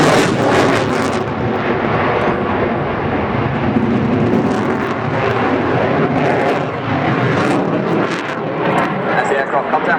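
Military aircraft performing at the Royal International Air Tattoo 2013, a loud, steady engine roar that fills the whole stretch, with a voice talking over it throughout.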